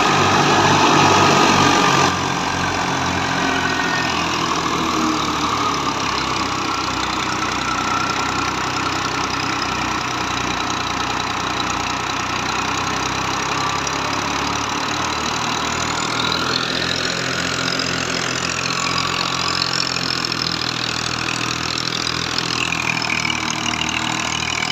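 A small Fiat tractor engine runs steadily at idle throughout, a continuous loud mid-pitched chug with a slight shift in tone partway through, no voices over it.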